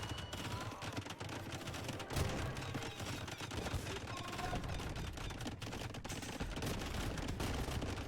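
Hand cannoneers fire in the video game Age of Empires II, a dense, continuous crackle of rapid gunshot volleys from battle units, steady throughout.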